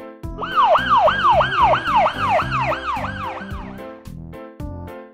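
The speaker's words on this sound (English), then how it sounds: "Police car." Close and loud, a police car siren gives a rapid repeating wail that sweeps up and down about ten times over a steady rhythmic backing, then fades into plain music.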